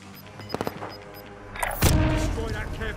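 Gunfire and explosions in a Call of Duty match: a quick string of shots, then a heavy boom with rumbling, loud and close, with a player's voice talking over it.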